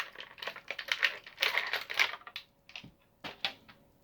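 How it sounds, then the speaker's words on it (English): Action figure arms, a basic WWE Ember Moon figure, being pulled free of their plastic packaging: close, irregular bursts of crisp plastic clicking and crackling, with short pauses between. "It's always that hard just getting the arms off of the plastic."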